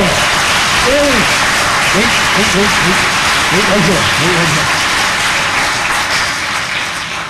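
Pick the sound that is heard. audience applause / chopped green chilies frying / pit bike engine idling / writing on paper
audience applause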